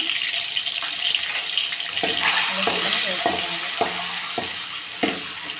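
Boiled eggs fry in hot oil seasoned with chili powder and salt, giving a steady close sizzle with repeated scraping and stirring knocks from about the two-second mark onward.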